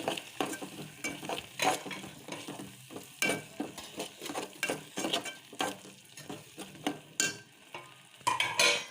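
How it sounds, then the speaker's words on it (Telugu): Garam masala and coriander powder are stirred into frying onions in a pan for a gobi tomato curry, making rhythmic spoon scrapes and clinks over a light sizzle with no one speaking. "one spoon garam masala half spoon ధనియాల పొడి ఇవి వేసుకొని ఒకసారి కలుపుకోవాలి"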